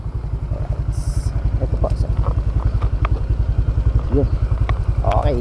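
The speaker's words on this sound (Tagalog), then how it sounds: "pina-start na nga nila sir yung ating motor" A second-hand motorcycle engine runs at a steady, close idle, its even rapid putter continuing throughout while people talk faintly nearby.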